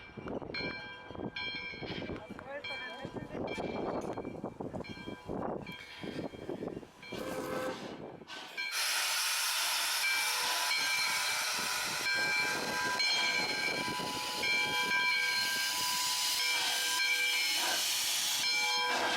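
Nevada Northern Railway locomotive 93 moving with its train, heard close up as uneven rumbling and clanking that gives way to a loud, continuous hissing roar with sustained ringing tones.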